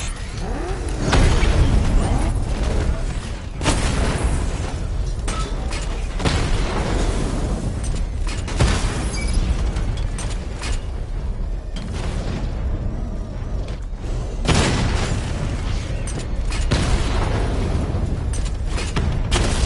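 A missile barrage in a Batman game on PS4 rolls on as repeated loud booms and bursts over a constant mechanical roar, hits landing at irregular intervals across about twenty seconds.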